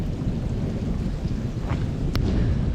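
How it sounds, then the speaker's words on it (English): Low, continuous rumble of thunder from a storm moving in, rolling steadily over rain and wind noise with a brief sharp crackle near the end, fairly loud and sustained throughout. "Thunder's coming from that way."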